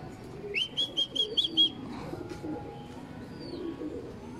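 Racing pigeons arrive at a home loft during a young-bird derby: a bright run of five rhythmic chirps near the front, soft cooing and rustling behind, moderately close with faint outdoor background.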